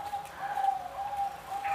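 A zebra dove coos softly in a repeated, rhythmic pattern at a breeding farm, fairly faint against quiet background noise.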